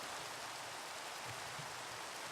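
Steady rain falling in Minecraft, a soft, even hiss of drops that runs unbroken and fairly faint, with no talk over it.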